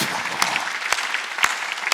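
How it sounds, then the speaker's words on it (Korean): Steady clapping from a church congregation during a service, a continuous hand-clap texture punctuated by a few sharper, louder claps at irregular moments. "박수치라."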